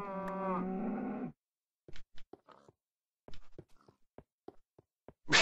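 A Minecraft cow gives one long, loud, droning moo, followed by scattered short game clicks and soft footstep-like taps in otherwise silent gameplay.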